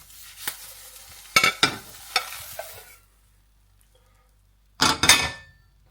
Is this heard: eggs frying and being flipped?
yes